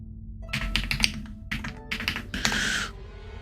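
Keys clack on a new computer keyboard in quick, uneven bursts of keystrokes, close and crisp, with short pauses between runs of typing.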